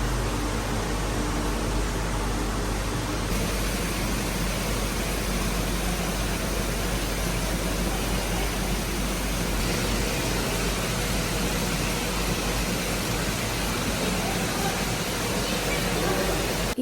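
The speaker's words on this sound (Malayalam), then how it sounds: "ഇതാണ് ഇതേ വെള്ളച്ചാട്ടത്തിൻ്റെ ഡൗൺ പാർട്ട്" The lower part of a waterfall pours in a constant, dense roar of rushing water that fills the whole stretch at steady loudness, with no clear talk over it.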